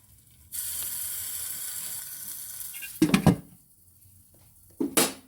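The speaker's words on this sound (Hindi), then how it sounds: "अब इसके अंदर मैं कोयला रखूँगी गर्म किया हुआ, और इस पर हम इसी से ऑयल डाल के" Oil poured onto hot charcoal set in a cooking pot for anda tikka masala gives a loud, steady sizzling hiss for about two and a half seconds, followed by a few close metallic clanks of a pot or lid.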